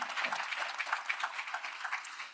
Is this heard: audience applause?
yes